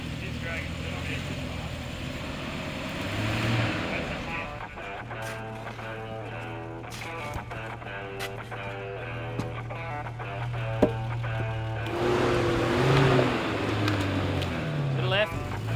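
A 4WD vehicle, a Toyota off-roader, climbing a jeep track near Pyengana, Tasmania, with a low steady engine drone and revving rising toward the end, heard under people talking.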